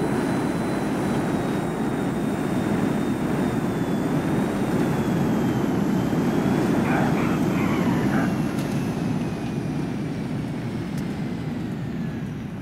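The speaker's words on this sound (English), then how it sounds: "Buzzards are nice and quick, easy to fly, very, very new player friendly as a helicopter." Buzzard helicopter in GTA Online flying steadily, a loud continuous engine and rotor drone with a faint high whine, with faint other game sounds mixed in.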